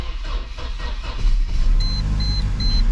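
Mercedes SLK230 engine cranking and catching, then running with a steady low idle rumble close by, a faint repeating chime beeping in the background.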